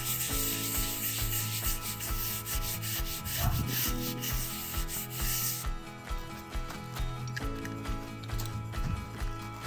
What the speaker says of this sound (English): I'm cleaning it with a scrubbing brush and water